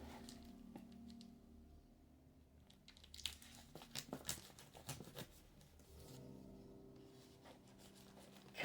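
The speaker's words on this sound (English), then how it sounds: "A very reflective shrink wrap here. So yeah, let's just get this right open." Shrink wrap being torn and crinkled off a very large Dungeons and Dragons Castle Ravenloft board game box, with a cluster of sharp crackling rips and rustles in the middle, fairly close and quiet over a low steady hum.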